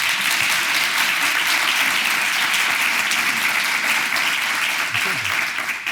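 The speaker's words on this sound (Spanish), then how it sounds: "¿podrían aplaudir?" An audience at an education week event in Tomiño applauds, dense sustained clapping that continues evenly for several seconds with a few voices mixed in.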